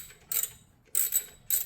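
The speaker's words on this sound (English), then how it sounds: "now we're gonna tighten up the bolt for the tensioner" Three quick bursts of a ratchet wrench clicking as a tensioner bolt is tightened on a 2004 Toyota Tacoma 3.4 engine, close and crisp with short pauses between strokes.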